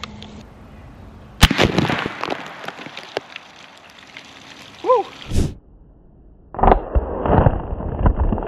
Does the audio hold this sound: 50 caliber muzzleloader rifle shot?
yes